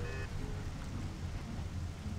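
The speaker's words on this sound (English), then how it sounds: "Once it stops raining, we're golden." Steady rainfall in the Mafia video game, a dense continuous patter of drops with a low rumbling undertone, constant throughout and with no speech.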